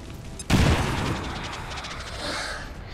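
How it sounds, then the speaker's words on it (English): A grenade goes off in the turn-based strategy game XCOM 2 as one loud, sudden blast, followed by a rumbling, crackling decay that fades over the next couple of seconds. "so let's go with the grenade there."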